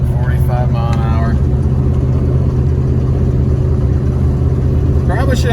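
A car cruises at about 45 mph while towing a free boat with low oil pressure, giving a steady loud engine drone and road rumble throughout, with voices talking briefly at the start and end.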